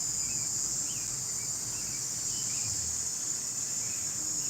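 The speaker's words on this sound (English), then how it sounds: "can you hear that cicada?" A cicada buzzes in a continuous high, steady drone that holds for the whole stretch, with faint bird chirps scattered underneath.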